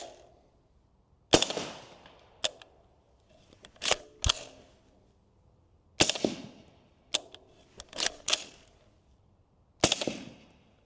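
Suppressed gunshots from a rifle fitted with an Omega 300 silencer firing subsonic ammunition, about ten sharp, dry cracks in irregular clusters with quiet gaps between, each decaying quickly.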